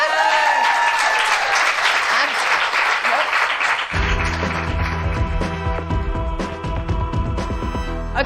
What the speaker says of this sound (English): please give a huge round of applause for Celia Pacquola